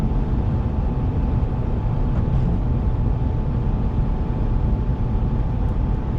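Steady, low road roar from 35-inch General Grabber ATX tires on a 2019 Ford F-350 Powerstroke pickup at highway speed, a smooth constant rumble heard from inside the cab with no voices.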